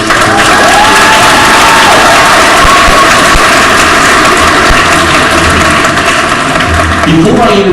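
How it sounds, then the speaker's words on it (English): A loud commencement crowd in a large venue erupts in applause mixed with cheering and shouted whoops, a dense, continuous roar close up with raised voices throughout. "Ladies and gentlemen, one final round of applause."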